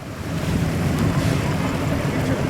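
Jet ski ridden on the water at Bentota, a continuous loud engine drone mixed with wind buffeting and splashing water, steady and close throughout.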